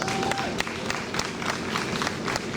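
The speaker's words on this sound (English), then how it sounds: "Again, let us give them a round of applause" An audience at a Wear Orange community gathering gives a round of applause, a continuous wash of clapping with some crowd noise heard at a moderate distance.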